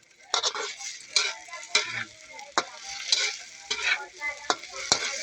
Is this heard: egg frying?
yes